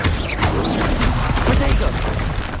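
In the Hogwarts Legacy video game, a cast Incendio fire spell bursts with whooshing, crackling impacts and heavy booms, loud and close. Spoken voices and other game sounds are mixed in throughout.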